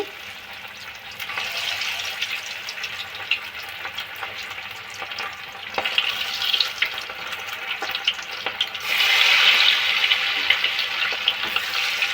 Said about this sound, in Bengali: পরিমাণ মতন তেল দিয়ে দিলাম কারণ এটা ডিপ ফ্রাই করতে হবে হয়ে গেছে এবারে পেঁয়াজগুলো দিয়ে দিচ্ছি